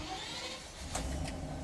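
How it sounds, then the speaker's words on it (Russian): A new PAZ school bus engine cranks and catches, starting up as a brief, near motor burst over a low idling rumble. "Водитель марковской школы Алексей Оськин заводит новенький ПАЗ."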